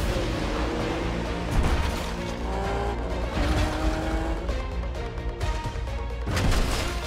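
Cars roar and race in Wreckfest, a destruction-focused arcade racing game on Nintendo Switch, with loud continuous engine drone, tire squeals and skids, and crashing impacts, dense and up front.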